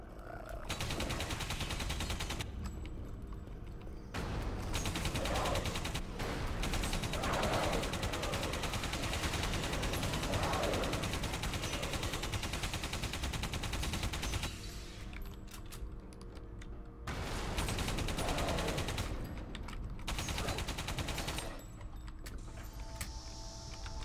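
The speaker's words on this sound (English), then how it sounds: "Ooh, sentry turret." Sentry turret in the video game Alien Breed Impact firing in sustained loud bursts, dense rapid gunfire with short pauses between volleys, mixed with other game noise.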